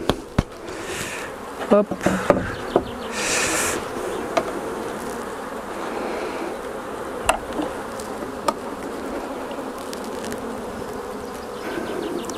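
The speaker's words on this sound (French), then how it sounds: "Donc j'ai déjà des abeilles sur ma partition." Honeybees hum steadily as a small nucleus hive is opened for transfer into a larger hive, a dense close buzz broken by sharp knocks and taps of the wooden box, with a brief spoken word.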